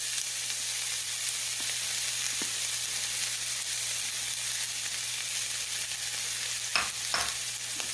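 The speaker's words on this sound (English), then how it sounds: "I love the smell of onion cooking." Chopped medium onion fries in a pan for corned beef hash with a steady, even sizzle throughout, plus a few soft stirring knocks near the end. No one speaks.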